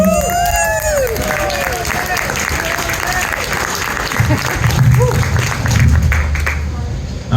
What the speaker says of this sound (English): So want a huge round of applause for Tom Kilday